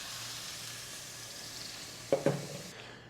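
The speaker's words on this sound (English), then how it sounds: "And we just want to get a nice sear" Beef pieces searing in a hot pan for stroganoff, a steady close sizzle with two sharp utensil clinks near the end before it cuts off.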